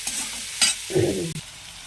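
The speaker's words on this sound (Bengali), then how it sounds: "নুনটা পেঁয়াজের সঙ্গে দিয়ে দিই এই কারণে পেঁয়াজটা দিলে ভালো করে ভাজা ভাজা হয়" Onions frying with salt in a pan: a short burst of bright sizzling with a couple of sharp stirring scrapes, then a softer, lower bubbling hiss close by.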